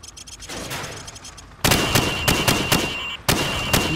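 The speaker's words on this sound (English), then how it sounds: "Now, shoot at the targets while firing from the hip." Hip-fired rifle shots at training targets in Call of Duty 4: Modern Warfare start as a muffled, busy patter, then become loud, sharp cracks in quick bursts of several shots, with no speech.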